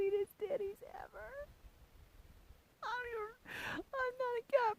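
House cats meow up close in repeated bursts, clear drawn-out cries separated by a quiet gap, with a breathy rustle between calls.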